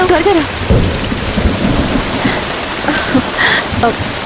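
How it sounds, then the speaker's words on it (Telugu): Heavy rain pours down in a thunderstorm, a dense loud hiss of drops with low rumbles, continuous throughout, with faint voices briefly in the background. "వర్షం బాగా ఎక్కువగా కురుస్తుంది"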